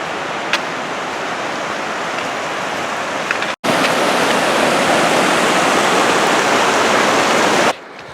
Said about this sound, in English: I definitely don't remember seeing that waterfall first time.